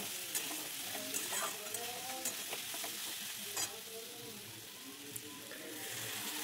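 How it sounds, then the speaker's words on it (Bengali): Fried cauliflower stirred with potatoes in a pan, a continuous soft sizzle with repeated scraping and clinking of a spoon throughout, fairly quiet and close. "এবার ভেজে রাখা ফুলকপিগুলো দিয়ে দিলাম, দিয়ে এই আলুর সাথে কষিয়ে নেব।"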